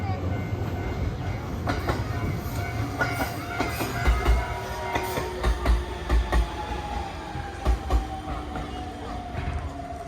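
A train on the Shinonoi Line in Nagano, Japan, rolls along the rails with a steady rumble and periodic clickety-clack of wheels over joints, heard close by.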